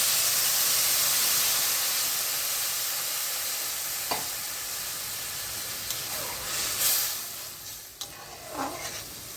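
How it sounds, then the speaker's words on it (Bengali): Steady broadband hiss of bitter gourd, potato and small fish frying in a pan, with a few sharp clicks and a brief louder spit as water hits the hot surface near the end. "এখন আমি জল দিয়ে দিচ্ছি।"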